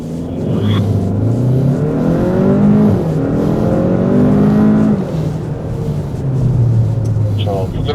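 A Hyundai Sonata N Line accelerates hard from a launch on a test course, its engine climbing through rising revs with gear-change dips, loud and close, while a voice talks over it.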